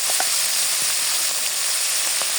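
Cumin, onion and garlic spice paste fries in a pan with a continuous dense sizzle, close and even throughout, with no voices over it.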